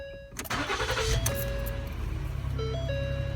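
A 2013 Ford Flex with a replaced fuel pump relay cranks and starts, the engine catching quickly and settling into a steady idle while dashboard chimes ring out, no voices.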